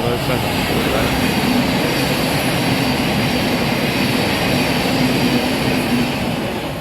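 A loud, steady rumble of an empty passenger train rolling past close by at Welham Green on the East Coast Main Line, broadband and continuous throughout with no pauses.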